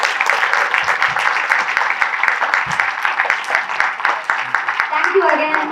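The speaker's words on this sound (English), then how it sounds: "I think they really need a huge round of applause." An audience at an annual awards ceremony claps in a full, dense round of applause that holds steady throughout, with some voices mixed in.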